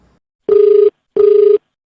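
Two loud electronic telephone rings come one after another, each lasting about half a second with a short gap between them. They are heard alone with no talk, as a call is placed to a listener during a Hindi FM radio prank call segment.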